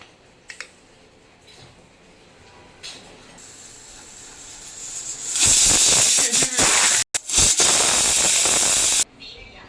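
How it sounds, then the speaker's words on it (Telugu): A pressure cooker whistle, cooking vegetable biryani, bursts into a loud, sharp hiss of escaping steam, briefly breaking off and resuming, after a quieter stretch with light background sounds. "ఒక 2 విజిల్ ఇస్తే సరిపోద్ది ఫ్రెండ్స్."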